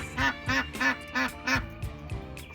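A pet duck named Quacky quacks five times in a quick, even run, close and loud, then a couple of softer calls follow.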